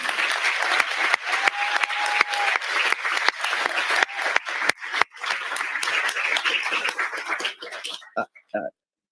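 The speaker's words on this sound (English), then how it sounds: "And let's give them a round of applause." Audience applause at a reparations event, a sustained and loud round of clapping lasting several seconds before tapering off into scattered claps at the end.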